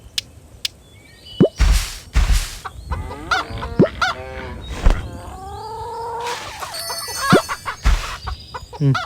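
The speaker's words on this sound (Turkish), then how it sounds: "Şimdi şu tavukları bir yemleyelim." Hay Day chickens being fed: a string of clucks and squawks, some short and sharp and some drawn out, coming irregularly and fairly close.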